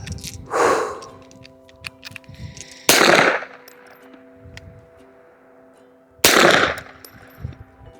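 Three sharp pistol shots from a Fusion Firearms XP PRO COMP ring out at an outdoor range, spaced a few seconds apart, each a loud crack with a brief ringing tail and quiet between.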